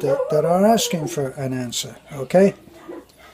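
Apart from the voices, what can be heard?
dogs barking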